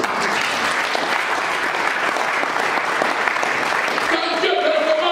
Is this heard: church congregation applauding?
yes